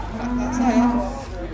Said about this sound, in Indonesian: Tiba-tiba kedatangan sapi kayak gini.